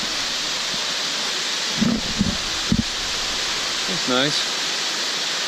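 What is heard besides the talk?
waterfall at Ricketts Glen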